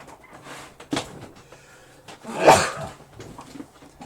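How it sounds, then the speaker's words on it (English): A single sharp sneeze bursts out loudly in a quiet room, preceded by a few faint breaths and small noises. "Excuse me, I need to sneeze."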